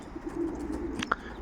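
Pigeons in a loft giving a soft, low coo, close and quiet, with a brief faint rustle or flutter near the end.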